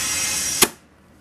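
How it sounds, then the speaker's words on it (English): The pressure switch on an air compressor gives a single sharp click, and the steady mechanical noise before it dies away into near silence. "There goes the switch on the compressor"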